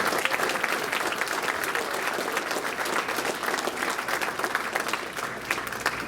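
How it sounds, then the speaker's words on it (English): Steady applause from a crowd, dense clapping that holds at an even level throughout. "Again, another round of applause."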